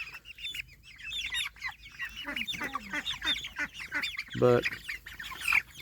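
Young hatchery hens cluck and chatter in a busy, overlapping stream close by, with one louder squawk near the end, and someone speaks briefly.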